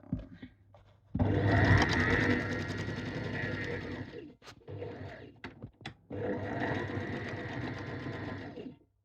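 Sewing machine stitching a trouser pocket into the side seam, two long steady bursts of close whirring separated by brief short runs and clicks.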